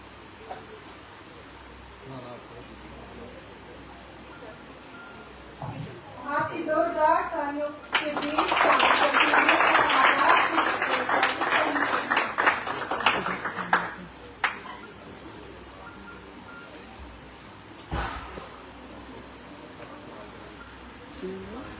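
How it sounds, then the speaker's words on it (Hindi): Audience applause greeting the first participant at a poetry recitation competition, a loud burst of many hands clapping that swells and fades after a short spoken introduction. "तो जोरदार तालियों के बीच स्वागत करें हमारी आज की इस प्रतियोगिता की पहली प्रतिभागी को।"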